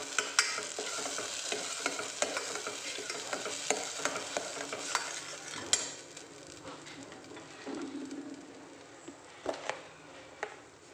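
Ground masala paste sautéed in a pan for salna, a soft continuous frying hiss with regular scrapes and taps of a ladle stirring, fairly quiet and close, the sizzle easing off in the second half.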